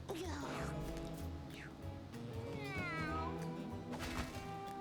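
Cartoonish cat meows in the video game Mewgenics, several short mewing calls over busy game music and effects, with someone talking throughout.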